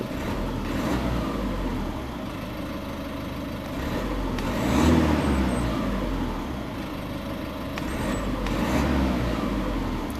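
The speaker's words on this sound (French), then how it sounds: "On va écouter un tout petit peu la sonorité du diesel." A Citroën DS4 1.6 e-HDi diesel engine rumbles steadily at idle, a low continuous growl with slight swells in intensity, heard alone without talk.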